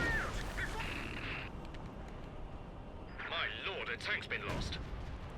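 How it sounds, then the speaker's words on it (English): Artillery shells burst in a Company of Heroes 2 battle, the barrage rolling as repeated booming blasts with whistling and crackling debris, loud and close, with the explosions clustered at the start and again toward the end. "New artillery still raining down"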